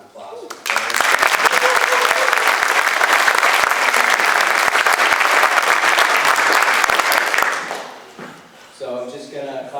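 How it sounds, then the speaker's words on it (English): Loud, sustained applause from a large crowd at a school spring sports banquet, steady for several seconds before tapering off, followed by a voice speaking. "So round of applause."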